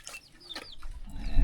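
Chickens cluck in a rural village in Laos, a few short clucks near the start followed by a rising low rumble of background noise.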